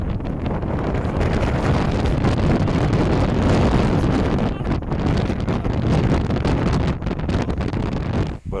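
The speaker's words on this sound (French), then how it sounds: "Il y a un vent à décorner les bœufs" Strong wind roars continuously, buffeting the microphone with loud, steady rumbling gusts.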